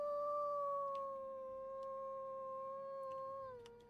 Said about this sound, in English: He's got a lovely howl.